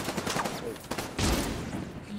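Sniper rifle fire in the video game The Division 2, a burst of sharp gunshot cracks followed by a heavier booming blast, loud and close, with a voice speaking over parts of it.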